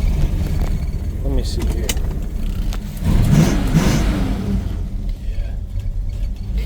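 Rumbling idle and a short rev from the engine of a 1968 Pontiac Tempest GTO tribute, still cold, heard close with some rattling and under a man's brief remarks.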